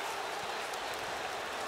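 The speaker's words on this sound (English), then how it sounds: "Crowd still booing the false start call." A stadium crowd at a Notre Dame at Texas A&M college football game boos a false start call, a dense, continuous roar of many voices spread wide and steady throughout.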